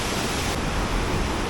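The Goa Putih waterfall and river flow with a steady, broad rushing wash of water that stays even and close throughout.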